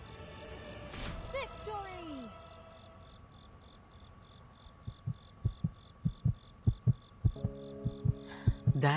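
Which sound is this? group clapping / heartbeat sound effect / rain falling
heartbeat sound effect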